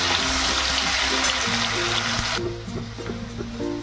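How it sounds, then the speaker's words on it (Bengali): Cashews and raisins fry in hot oil with a steady, close sizzle, and a brief clatter of stirring partway through as the bubbling softens. "আমি কাজু আর কিশমিশ যে ধুয়ে রেখেছিলাম সেই কাজু কিশমিশটাকে ভেজে নেব"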